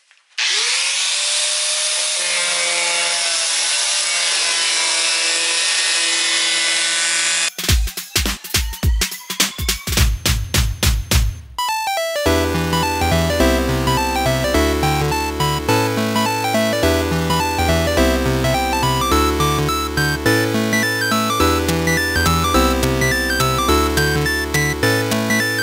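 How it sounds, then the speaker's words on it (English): An angle grinder works on a car body kit being mocked up for paint. It spins up, then gives a loud, steady abrasive whine for about seven seconds, followed by choppy bursts and then a loud, rhythmic, repeating pattern. "And then I'm gonna get the grinder out."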